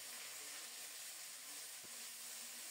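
Onion and green chili paste sizzling in hot oil in a pan, a steady, even frying hiss throughout with one faint clink partway through.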